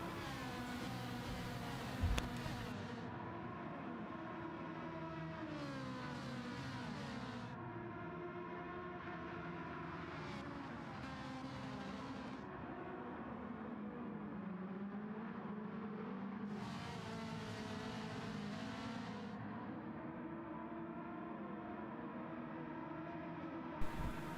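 Several race cars in a GT sim racing championship game bunch together in a close pack, their engine notes continuous and layered, rising and falling through gear changes with no talk.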